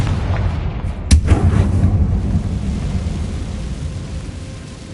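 A Confringo blasting spell bursts in the Hogwarts Legacy game, one sharp loud crack with a rumbling boom that decays over a couple of seconds into a steady wash of ambient noise.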